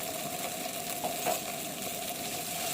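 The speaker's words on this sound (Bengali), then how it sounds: "বাদাম বাটাটা ভালো মতো নেড়ে ভেজে নিতে হবে" Ground nut paste fries in a pan with a steady, close, low sizzle, and a spoon gives a couple of faint scrapes as it is stirred.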